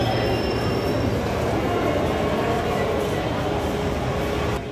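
Train ambience inside Karol Bagh metro station in Delhi: a steady, loud rumble of a metro train with a faint high whine, continuous throughout and cutting off slightly at the end.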